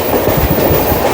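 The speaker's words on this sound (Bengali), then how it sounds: "এটা হচ্ছে Asansol Bardhaman MEMU local ICF coach." Asansol–Bardhaman MEMU local train with ICF coaches rolling past close by, loud continuous rumble with rhythmic clickety-clack of wheels over rail joints.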